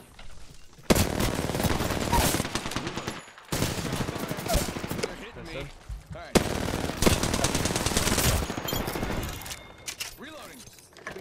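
Automatic weapon fire in the battle royale game Apex Legends: long, loud rapid-fire bursts broken by short pauses, with reload clatter between them and a voice speaking over parts of the shooting.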